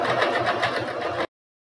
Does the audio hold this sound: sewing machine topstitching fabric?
yes